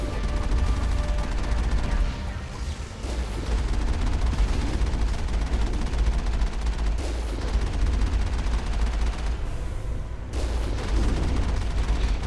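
Heavy booming cannon fire in the game Mass Effect, a dense continuous barrage of blasts and rumble at high level, with brief dips between volleys.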